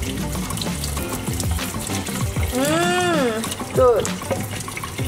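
Tap water runs steadily while a bouncy egg, soaked for two days, is washed under it. A voice speaks briefly partway through over the continuous flow.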